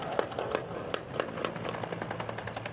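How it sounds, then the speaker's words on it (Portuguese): Scattered gunshots ring out during a police operation in Rio de Janeiro with an armoured helicopter overhead, sharp irregular cracks at moderate distance over a low rumbling background. "o som de disparos ali naquela região"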